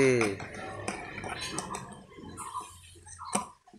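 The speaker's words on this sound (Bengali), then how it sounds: "ওই বাবা আবার নাড়ছে" A child stirs toy cookware while playing at cooking greens, producing light clinking and tapping of small utensils against toy pots, with voices talking nearby.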